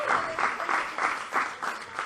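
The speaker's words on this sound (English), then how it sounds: "Clap for Lamont" Audience applause at the Bronx Youth Poetry Slam for Lamont Parker, a steady burst of clapping from a crowd with slight surges over about two seconds.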